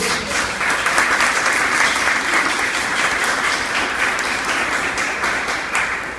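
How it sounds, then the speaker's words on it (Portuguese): A church congregation at a charismatic Catholic seminar applauds steadily, a dense, sustained wash of many hands clapping at once, loud and even throughout with no break. "aplaude esse Deus"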